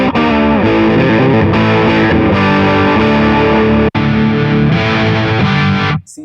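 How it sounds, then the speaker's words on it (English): A headless electric guitar played through a heavy metal distortion patch, with sustained, saturated chords that ring loud and continuous for about six seconds, broken by one brief gap, before cutting off. "Serious, more metal sort of a distortion."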